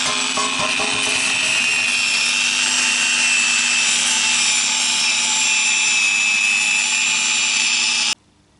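An angle grinder works steadily on a metal weld on a metal claw sculpture, giving a loud, continuous high-pitched whine with rough grinding texture for about eight seconds before cutting off abruptly.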